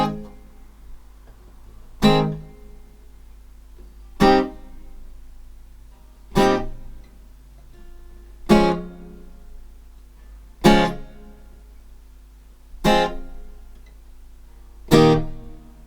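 Guitar chords for a song's progression, played one at a time as single strums. Eight ringing strokes come about two seconds apart, each fading before the next.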